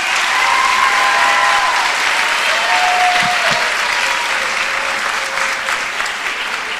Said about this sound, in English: I'd like you to give them one more round of applause